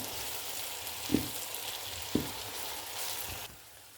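Onion and minced meat filling for içli köfte sizzles steadily in a pan, with two soft knocks of a spoon against the pan before the frying noise drops away near the end.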